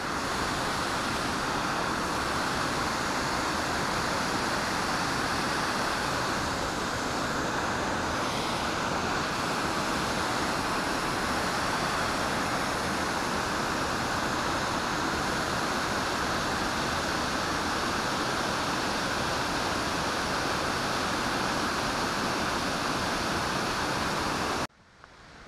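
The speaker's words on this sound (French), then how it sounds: "il y a pas mal d'eau qui coule et là on a des magnifiques cascades" Heavy rushing water from river waterfalls swollen after heavy rain, a loud, steady broadband roar that fills the whole stretch without a break and then cuts off abruptly at the very end.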